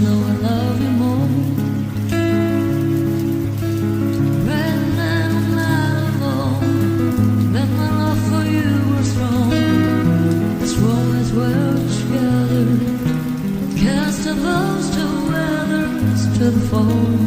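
Steady rain patter is laid over a live song, a continuous wash beneath full instrumental backing with sustained notes and shifting chords throughout.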